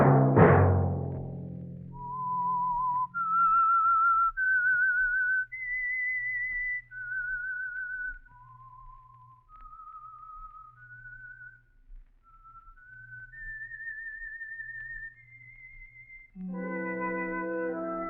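A lone whistler carries the eerie theme tune of the radio mystery show The Whistler, a slow rising and falling melody of sustained notes, clear and close, with a low orchestral chord at the start and another at the end.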